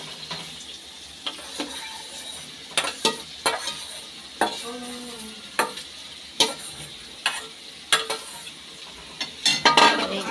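Paneer and grated potato stirred and fried in masala in a pan, a soft sizzle under repeated sharp scrapes and knocks of a spatula against the pot at an uneven rhythm.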